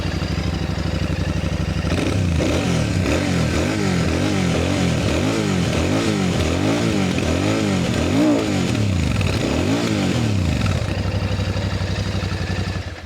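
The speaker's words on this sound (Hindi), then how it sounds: "अब रॉयल एनफील्ड है तो शुरुआत इसके एग्जॉस्ट नोट से ही कर लेते हैं।" A Royal Enfield Shotgun 650 motorcycle idles with a deep, thumping twin-cylinder exhaust note, then is revved repeatedly in a series of rising and falling blips before settling back to a steady idle, loud and close.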